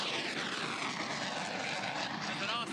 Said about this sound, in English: That's an awesome airplane.